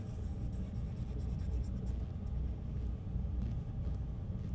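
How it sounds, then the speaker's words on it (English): An Apple Pencil scratches across a paper-feel screen protector on an iPad Pro 13-inch, giving a soft, continuous papery scraping with small rhythmic strokes over a low background rumble, close and fairly quiet. "It's got just a slight bit of roughness, like you are like drawing on a piece of paper, and it kind of sounds like it too."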